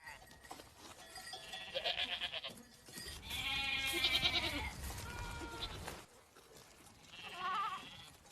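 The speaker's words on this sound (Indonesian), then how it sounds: "tak diduga mereka melihat ada beberapa ekor kambing beserta penggembalanya." A few goats bleat with a herder nearby, rising calls at middle distance that come in short bursts separated by quieter gaps, with a second voice in the same flock answering toward the end.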